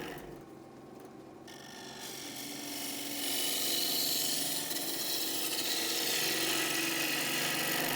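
Wood turning gouge cutting the outside of a small spinning wooden bowl on a lathe, a continuous rasping hiss that grows louder and brighter as the cut deepens, close and steady.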